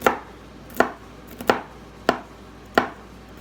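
A knife rough-chops nuts on a cutting board: six sharp, evenly spaced chops, each a crisp close thud with a short tail. No one speaks.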